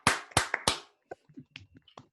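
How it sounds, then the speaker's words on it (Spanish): Three loud, close hand claps open the moment, followed by a few quieter, scattered claps and light taps from a small audience at an academic talk, with silence between them. "Pongan el micrófono, un aplauso, que sea."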